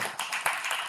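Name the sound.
audience applause at a meeting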